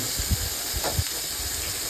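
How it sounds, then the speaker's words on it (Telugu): Marinated chicken pieces sizzle in hot oil for chicken tikka masala, a steady close-up hiss with a few soft pops and crackles. "తర్వాత నానబెట్టుకున్న చికెన్ని మనం ఆయిల్లో ఫ్రై చేసుకోవాలండి."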